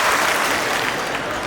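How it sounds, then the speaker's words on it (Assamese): An audience at a land patta distribution event in Dhemaji breaks into sustained, loud applause, a dense wash of clapping from many hands. "ৰাইজেও এটা দীঘলীয়া হাত চাপৰি মাৰক"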